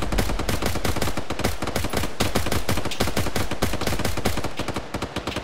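Strafing gun run from an aircraft in a military shooter video game, with a sustained rapid burst of heavy automatic fire hammering continuously and loudly before tapering off near the end.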